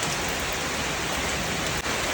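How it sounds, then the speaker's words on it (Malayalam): Steady rain falls outdoors, a dense, even hiss that fills the whole short stretch with no voices or other sounds rising above it. "ദേ മഴ പെയ്തോണ്ടിരിക്കുക കേട്ടോ."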